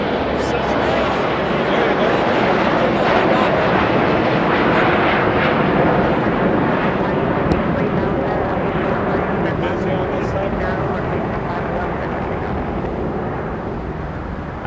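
A British Airways Speedbird airliner taxiing toward Tom Bradley terminal at Los Angeles airport gives a loud, steady broadband engine roar with wind buffeting throughout, and no clear speech over it.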